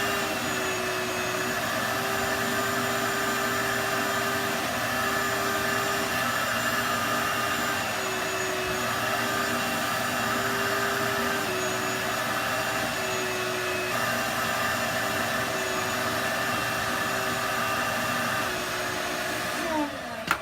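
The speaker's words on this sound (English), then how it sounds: "Now I'm just going to go over it with the vacuum and see how much of these stains and dirt we got out." A vacuum cleaner drones steadily over a badly stained, dirty car floor mat, a loud continuous whine with a faint pitch wobble as the nozzle moves, heard alone for about twenty seconds.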